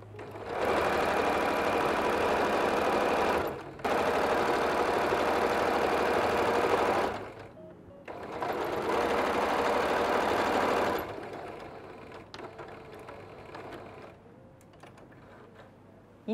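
Sewing machine stitching the sides of a batik tote bag, a steady loud whirring run in three long bursts with short pauses between, then fainter handling noises at the end.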